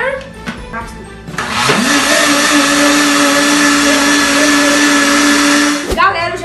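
A blender whirs loudly and steadily for several seconds after a brief rising start-up, then cuts off, with a voice heard before and after.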